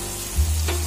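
Pointed gourd sabji being stirred and fried in a pan, a steady sizzle with a low rumble and a brief scrape of the spoon midway, close and alone with no talk.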